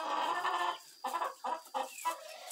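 Shut-in hens clucking inside their coop, wanting to get out: a longer run of calls followed by several short, separate clucks, moderately near but fairly quiet.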